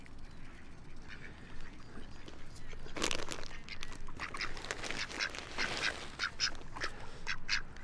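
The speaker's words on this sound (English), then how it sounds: "I like hanging out here with my busted duck mates." Ducks quack in a loose outdoor flock, including one with an injured leg, producing scattered nasal calls that cluster and overlap in the second half over a quiet background.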